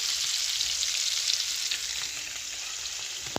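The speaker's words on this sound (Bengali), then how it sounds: "এই যে দেখো এগুলা ভাজা হয়েছে, আর আমি ভাজতেছি এখানে।" Food seasoned with chili powder fries in a pan with a continuous, loud, even sizzle and hiss, heard alone from start to finish.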